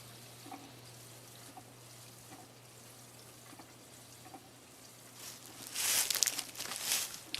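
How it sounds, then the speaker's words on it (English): A well pump fills a pressure tank after a freeze pipe repair: a faint steady hum with soft trickling water, building to louder rushing, crinkling water flow near the end. "right now it's just filling up the pressure tank"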